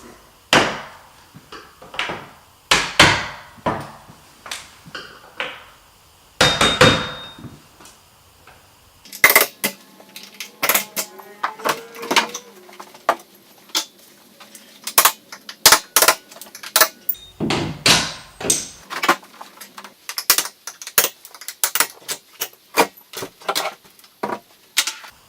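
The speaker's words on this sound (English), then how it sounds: "All I use to take the doors off is a skinny screwdriver and any kind of hammer. And then I just pop the pins out." A hammer taps a skinny screwdriver to drive hinge pins up out of interior doors, giving sharp metallic knocks in irregular bursts, some rapid and some spaced apart, close by, with light clinks and rattles between strikes.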